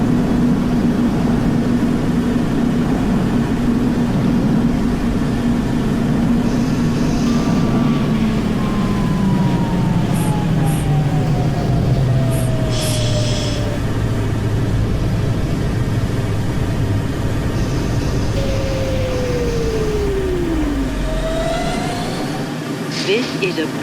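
New York subway Q Express train running in the OpenBVE simulator, a continuous loud rumble with gliding motor whine pitches rising and falling, brief squeals and an announcer voice over it.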